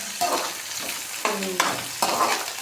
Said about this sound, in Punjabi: ਇੱਥੇ ਆਪਾਂ ਪਿਆਜ਼ ਭੁੰਨ ਰਹੇ